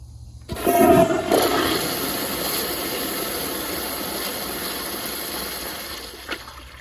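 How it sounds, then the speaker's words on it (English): A Kohler toilet flushes right up close: a sudden loud rush of water surges in the first second, then settles into a steady draining gurgle and hiss that fades toward the end, with a small clunk near the finish. "But now I'm gonna do a close-up flush like this."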